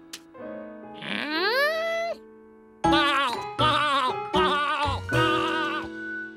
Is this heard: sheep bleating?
yes